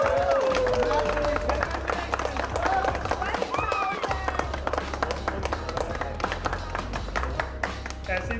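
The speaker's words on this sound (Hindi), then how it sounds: "तालियां बजाओ" A crowd claps at a media event celebrating one thousand episodes of the TV serial Yeh Rishta Kya Kehlata Hai. The rapid, scattered claps carry on steadily under loud crowd chatter and voices.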